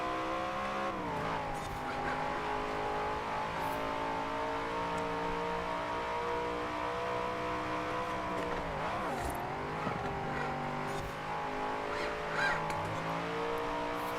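Race car engines, including a Ferrari, drone and rev in the video game Forza Horizon 4, a sustained harmonic whine that dips and climbs around corners before pulling hard again, loud and continuous.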